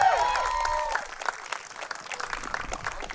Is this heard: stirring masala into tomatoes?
no